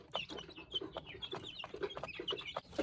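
Young local chicks in a brooder without extra heat chirp continuously, a busy chorus of high peeping calls close by, with no talk.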